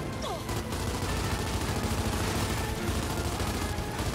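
Sustained gunfire aimed at tree roots in the video game Gears 5, a loud, dense, continuous barrage of shots with no clear breaks between them.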